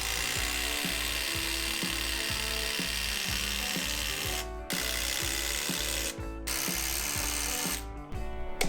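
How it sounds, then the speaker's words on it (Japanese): A power driver sets screws into the old wooden floor of a 40-year-old house. The motor whirs loudly and close with steady rapid pulses, and the bursts stop briefly between screws. No one speaks. "できるだけ定位置に戻してやってビスでしっかりと留めていきます。"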